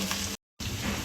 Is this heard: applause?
no